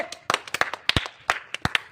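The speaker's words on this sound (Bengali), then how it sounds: "হাততালি" A small group claps hands for a first-prize winner at a tea-pot-breaking game, a quick, uneven burst of sharp nearby claps lasting under two seconds.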